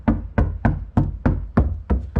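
Eight evenly spaced, solid knocks on a sound-deadened Scion xB car door panel, dull and close with no ringing.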